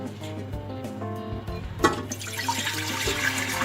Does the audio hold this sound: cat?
no